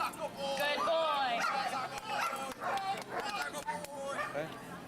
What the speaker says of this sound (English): I'm gonna send my dog.